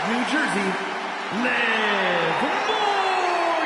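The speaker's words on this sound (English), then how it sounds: "Listen to that crowd." A wrestling event crowd roars and cheers in a loud, steady wash that swells midway, with an announcer talking over the noise.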